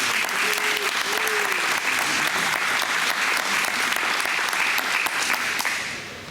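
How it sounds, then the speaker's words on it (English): Guests at an outdoor wedding in Lincoln clap loudly and continuously, a thick wall of applause that stays strong and then eases off in the last second, with a few faint cheers mixed in. "So let's give everyone, just give a round of applause."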